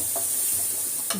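Spices with turmeric powder and salt sautéing in a pan for bitter gourd kuzhambu, a steady close sizzle with a couple of brief stirring scrapes, no talk.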